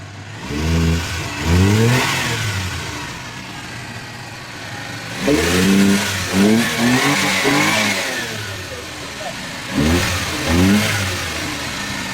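A Suzuki mini pickup engine, just fitted with a repaired starter, turns over and fires, then revs up and settles in three or four loud, close bursts with idling between them.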